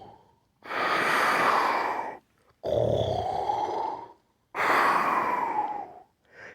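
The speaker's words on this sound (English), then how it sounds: "Soon he began to snore." Three long, breathy snoring sounds follow one another, each rasping for over a second with short quiet pauses in between.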